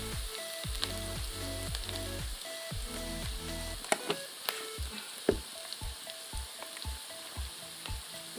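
Turmeric and spices sizzle in hot oil in a pan for chicken curry, giving a steady crackling fry with scattered pops and stirring scrapes, close and alone.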